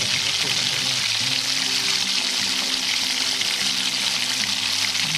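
Oil heats and sizzles in a wok (kadai) for palm fritters, a dense continuous frying hiss that stays even throughout, with a faint low hum beneath.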